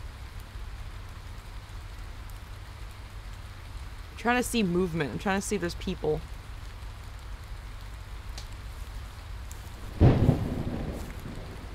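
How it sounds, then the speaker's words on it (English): Steady rain and rumbling thunder fill a nighttime scene in the video game Wolf Simulator, a constant wash running throughout with a louder burst near the end, while a person speaks quietly over it. "It's raining."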